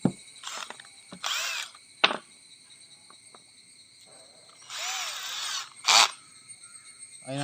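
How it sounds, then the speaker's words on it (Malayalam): A power drill drives screws and bores holes while a homemade reflecting telescope is assembled, giving several short whirring bursts of a second or so, close, separated by quiet gaps with faint clicks. "ഇവിടെയൊക്കെ നമ്മൾ സ്ക്രൂ ചെയ്ത് കൊടുക്കാം."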